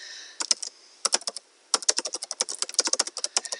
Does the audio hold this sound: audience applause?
no